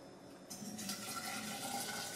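Hot coffee poured slowly from above through an extra-fine strainer into a thermos standing in a sink, a steady close splashing trickle of liquid that begins after a brief quiet moment and continues evenly.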